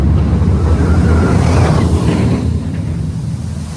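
A B&M roller coaster, Griffin at Busch Gardens, hits its splashdown at the end of the ride. A loud, broad rushing spray of water washes over heavy wind noise and fades slightly over a few seconds.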